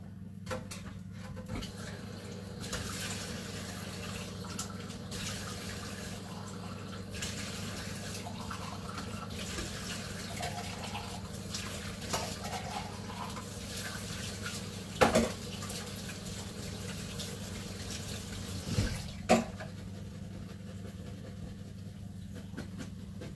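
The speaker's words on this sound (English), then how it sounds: "I'm just going to go over to the sink and drain them off" Canned cannellini beans rinsed in a sieve under a kitchen sink tap: steady running water with a low hum, a few metallic knocks and clinks of the sieve and can, close, no talk.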